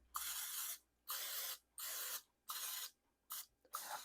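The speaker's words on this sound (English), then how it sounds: "Now we're just going to spray the muffin pan." Several short hissing bursts of cooking spray onto a muffin pan, each under a second with brief pauses between, close and steady.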